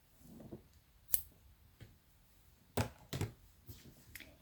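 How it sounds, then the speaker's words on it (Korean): Scissors snip through leftover crochet yarn while finishing a crocheted dish scrubber: a handful of sharp, close, quiet cuts spaced irregularly over a calm, silent background. "그리고 이 남은 실은 가위로 자르고"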